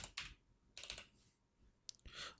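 A computer keyboard being typed on in short quiet bursts of clicky keystrokes, a few clusters of taps with brief pauses between them, close and soft.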